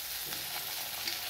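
Tomato pieces going into hot seasoning in a frying pan, a steady close sizzle and hiss of frying that runs alone throughout, with faint stirring scrapes.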